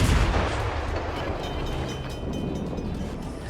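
Heavy naval guns of the cruiser Belfast boom in a video game, a dense, loud rumbling barrage of overlapping low blasts that sustains throughout with no pause.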